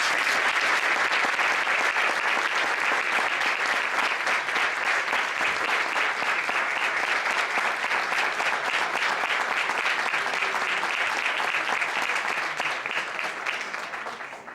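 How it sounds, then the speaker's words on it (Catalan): Applause from a percussion concert audience: dense, steady clapping that fills the whole stretch and fades slightly at the very end. "Un fort aplaudiment per a Jordi,"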